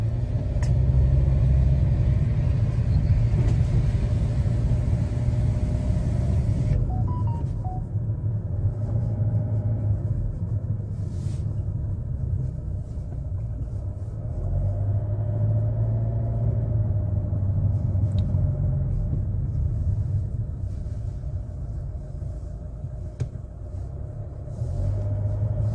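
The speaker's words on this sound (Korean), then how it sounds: "수리했으니까 이제 시운전을 한번 가보겠습니다." A repaired Chevrolet Malibu with a turbocharger fault climbs a hill on a test drive, its engine a steady low rumble with road noise inside the cabin, holding fairly constant with slight swells.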